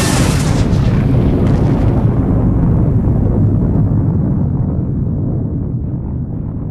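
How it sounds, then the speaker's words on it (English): Ear-deafening roar of a massive pyramid exploding, a loud, sustained rumble of broadband noise that begins at full strength and slowly fades and darkens over several seconds, with no voices. "Seconds later, the ear-deafening roar of the explosion reaches her."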